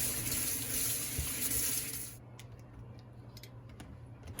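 Running tap water pours into a sink while a printmaking brayer is washed and scrubbed at the edges, a loud close rush that cuts off halfway, leaving faint drips and ticks.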